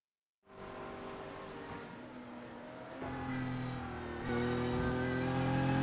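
Engine drone from inside an enduro race car during a six-hour race, a steady close tone that steps up in pitch as the car shifts and accelerates, with no voices.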